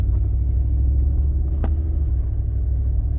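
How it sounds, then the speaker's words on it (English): A Jeep drives along with a low, steady engine rumble, one brief click-like change partway through as it shifts gears, otherwise a continuous muffled drone without talking. "the transmission problem on this thing has been, it fixed itself because it goes through the gears normal"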